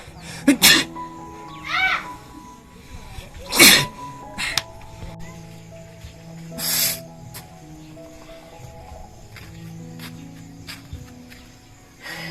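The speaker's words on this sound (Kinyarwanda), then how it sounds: "nahise ndwara ibicurane ndi kwitsamura ndi gupfunapfuna ubusa" A person with a cold sneezes sharply three times, the bursts spaced a few seconds apart, over a quiet background.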